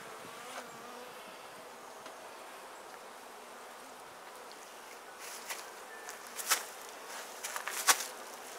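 Honey bees buzz continuously around an open top bar hive during an inspection, a steady close swarm hum with a few louder passes near the end.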